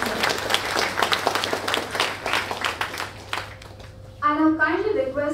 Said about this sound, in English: let's give a big round of applause to all our generous sponsors